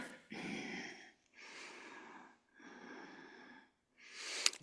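Slow, deep breaths during a yoga side stretch on the left side: three long airy exhales separated by short pauses, then a fourth breath starting, close and soft with no talking.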